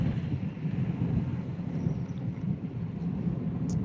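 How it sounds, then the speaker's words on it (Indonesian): Strong wind at Merak harbour roars steadily and loudly into the microphone as a continuous low buffeting rumble, with no voices. "anginnya kenceng"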